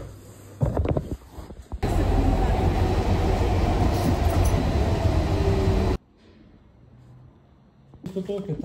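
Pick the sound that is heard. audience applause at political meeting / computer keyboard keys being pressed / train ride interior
train ride interior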